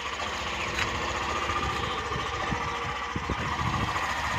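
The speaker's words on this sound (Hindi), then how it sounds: "यस, एक ही बार में किक स्टार्ट हो गया है।" A Hero Glamour motorcycle engine idles steadily just after a kick start, a close, even mechanical chug with no breaks.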